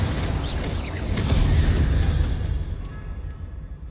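A Confringo blast spell from Hogwarts Legacy goes off as a loud, low rumbling explosion that swells and then slowly fades, with crackling debris trailing after.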